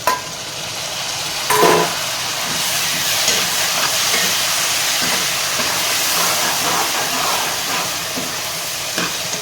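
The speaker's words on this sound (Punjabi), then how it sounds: "ਪਿਆਜ਼ ਨੂੰ ਚੰਗੀ ਤਰ੍ਹਾਂ ਭੁੰਨ ਲਵਾਂਗੇ" Chopped onions sizzle in a pan for lauki chana dal, a steady broad hiss with brief clattering bursts from stirring near the start.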